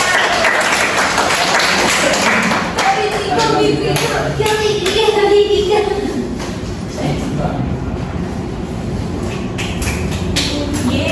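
A classroom full of high school students claps together in a sustained burst of applause, mixed with scattered chatter and shuffling.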